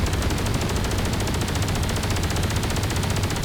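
Rapid ship weapons fire in the Space Engineers game, a dense, steady stream of fast repeating shots at close range running throughout without pause.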